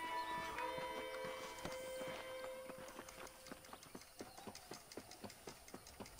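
Horse hooves clip-clop in Red Dead Redemption, a steady rhythmic trot of sharp, evenly spaced hoof strikes that grows clearer as a tonal musical chord fades out at the beginning.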